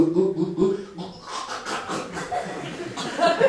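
A voice mimics someone chugging a beer, a quick series of rhythmic swallowing and breathy gasps, close and moderately loud, with a chuckle-like edge.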